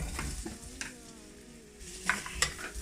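Potatoes fry in a little oil for rougail saucisse, a moderate crackling sizzle with a few scraping stirs and clinks near the end.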